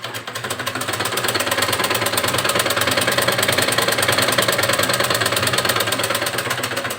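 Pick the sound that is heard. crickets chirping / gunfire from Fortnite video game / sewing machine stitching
sewing machine stitching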